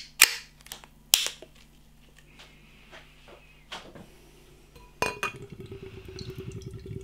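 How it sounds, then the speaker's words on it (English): A can of Overtone Brewing OOFT New England DIPA is cracked open with a sharp snap, followed by clinks and a louder hiss, then a steady rush of beer poured into a glass, close and fairly quiet. "let's get it out into a glass and see what we get"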